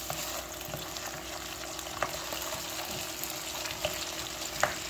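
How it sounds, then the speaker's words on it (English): Two cubed potatoes frying in oil in a pan, an even, hissing sizzle with occasional small pops and ticks, steady and close at low volume. "these are like two potatoes, and I cut them into cubes, and they're cooking out right now"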